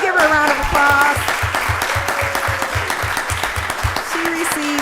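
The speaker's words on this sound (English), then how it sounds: "Let's give her a round of applause." Audience applause at a Rockdale County Board of Commissioners voting session, a steady roomful of clapping lasting the whole stretch, with a voice speaking over it and a rhythmic low thump running underneath.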